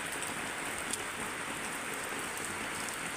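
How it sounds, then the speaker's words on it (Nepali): Steady rain pours down around a large village house, a dense even hiss with no breaks, moderately loud and close, with no voices. "बादल वर्षा"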